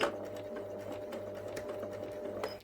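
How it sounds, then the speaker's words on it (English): A sewing machine runs steadily through fabric for a row of reverse stitches, a continuous close mechanical hum with faint rhythmic needle ticks and no talking. "I'm just going to slowly move my needle through the fabric till I've come off the end, and then I'm going to do some reverse stitches"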